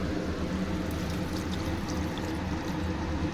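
Hot water poured into a pot of fried mutton and potato curry, a steady continuous splashing pour that runs close and fairly loud throughout, with no talking.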